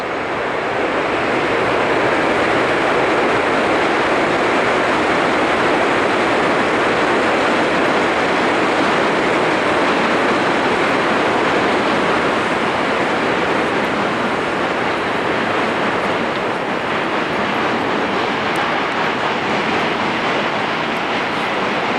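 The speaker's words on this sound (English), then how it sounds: "Oh, you can hear the subway." A loud, steady rumbling roar of a passing subway train in Williamsburg, Brooklyn fills the whole stretch, broadband and continuous without pause, with no voices over it.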